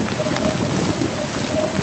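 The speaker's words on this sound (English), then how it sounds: "It's raining." Game rain pours steadily in a virtual world, a continuous close hiss of drops with a low rumble underneath, no voices.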